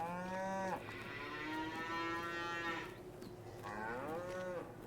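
Cattle on a farm in Farming Simulator 22 let out several close, drawn-out moos, one overlapping another, over a low steady game ambience.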